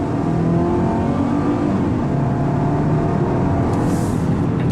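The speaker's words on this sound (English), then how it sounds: "So let's accelerate, and let's put it in dynamic." Volvo XC40 T5 AWD with an eight-speed automatic pulling hard in dynamic mode, a continuous engine roar rising steadily as the car gathers speed, loud and close with no talk over it.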